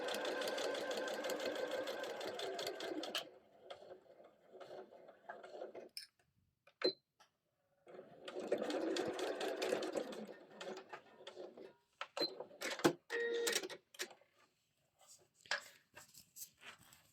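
A sewing machine stitches a seam through fabric layers while making a storage caddy, running in steady whirring bursts of several seconds separated by pauses and soft clicks, close and fairly quiet.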